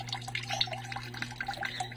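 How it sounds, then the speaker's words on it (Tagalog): Water drips steadily from a newly installed shower faucet, small close plinks landing in quick irregular succession over a constant low hum, with no talking. "Inaantay ko lang mawala yung water na tumutulo dyan."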